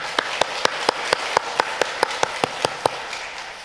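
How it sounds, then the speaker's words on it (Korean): A church congregation claps in steady unison at a Friday late-night prayer service in Daegu, about fourteen sharp, evenly spaced claps over a faint room background. "하나님께 감사의 박수 하겠습니다"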